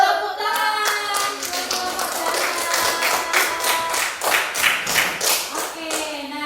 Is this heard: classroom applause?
yes